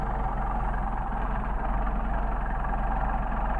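A Mercedes 190SL engine fitted with Solex carburetors idles steadily, a close, even low rumble with a regular pulsing beat and no voices.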